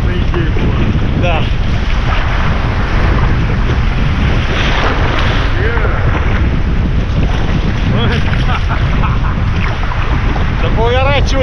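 A small boat tosses on rough river waves during a storm, with strong wind buffeting the microphone in a constant loud roar, water sloshing and slapping against the hull throughout.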